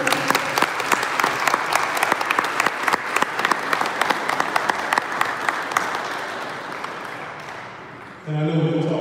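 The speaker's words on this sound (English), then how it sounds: "So let's give a round of applause to Mr. Grant." Sustained applause from an audience at a student athlete's college signing event for Ole Miss, steady clapping for about eight seconds that then stops, with a little talk emerging at the end.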